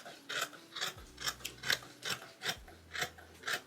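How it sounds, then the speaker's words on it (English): Scissors cut through fabric pieces and interfacing for sewing, making quiet, close snipping clicks in a regular rhythm of roughly two or three cuts per second, with no voices. "So now I'm gonna cut everything out, plus the interfacing for the neckline and the armholes."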